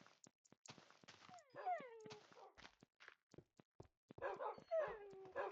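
Dog whimpering in Minecraft, a string of short rising and falling whines with sharp blocky game effects around them, loud and close, in two clusters with brief gaps of near silence.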